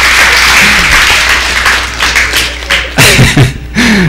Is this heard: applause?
yes